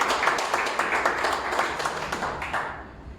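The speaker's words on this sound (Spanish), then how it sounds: "Podemos dar un fuerte aplauso a nuestro Dios." A church congregation claps together in a dense, rhythmic burst of applause that carries on for about three seconds before cutting off.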